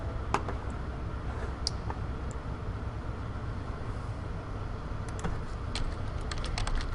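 Someone types on a computer keyboard with sparse, quiet key clicks, including presses of the enter key, set against a low steady background hum.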